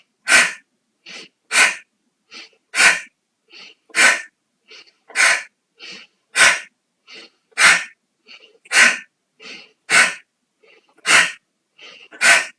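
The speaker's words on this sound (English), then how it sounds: "take a natural breath in and breathe out with your ha." Yoga breathing exercise with repeated forceful breaths exhaled on an open-mouthed "ha" sound, about a dozen sharp bursts at a steady rhythm, some softer in between, close and fairly loud with no other sound.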